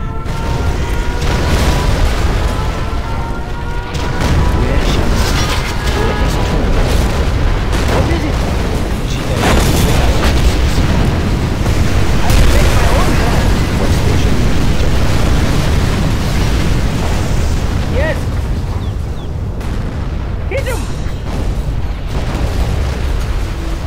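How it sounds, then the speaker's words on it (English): A nuclear missile detonation in the strategy game C&C Generals ShockWave, a loud sustained rumbling roar with layered booms and crackling blasts that fills the whole stretch without letting up. "Nuclear missile."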